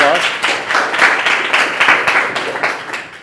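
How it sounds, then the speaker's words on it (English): Audience applause fills an awards ceremony for a private tutoring company, a dense, steady wash of many hands clapping close by for a few seconds. "A round of applause."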